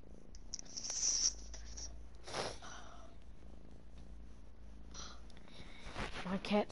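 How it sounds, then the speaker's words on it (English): A pet cat purrs close by in a soft, steady low rumble while gameplay sounds from Fortnite come and go over it. "My cat's just chilling, watching me play Fortnite."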